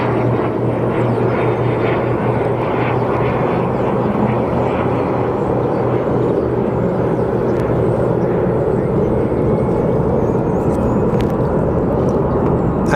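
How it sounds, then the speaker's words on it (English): A Vision jet taxiing on the ground at Sky Harbor Airport, its steady engine roar loud and continuous with broadband rumble throughout, no voices over it. "It's a Vision jet."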